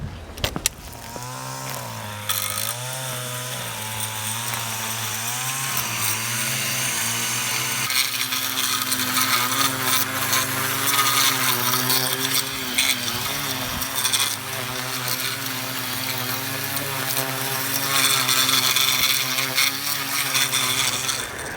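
An Ego battery multi-tool with a garden attachment runs steadily, a loud electric motor whine with a shifting pitch and a buzzing rattle that holds for about twenty seconds, with no talking.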